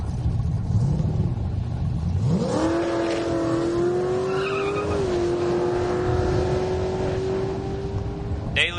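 A 1963 Fairlane wagon and a 1989 Mustang at a drag race: loud engine rumble rises sharply as a car launches, then holds a sustained high, strained roar with a brief squealing edge.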